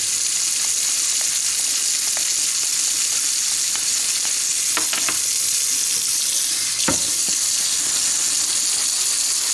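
A leather work boot is scrubbed with saddle soap lather, a constant wet hiss of foam with a few sharp brush scrapes and clicks standing out midway, close up and with no voices.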